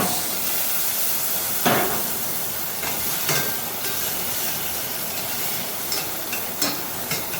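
Bacon browning in a pan for a braised beef shank dish, giving a steady broadband sizzle and hiss with a few sharper spits and pops rising out of it, close and continuous with no talking.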